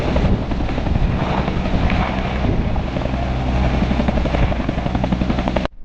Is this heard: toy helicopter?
yes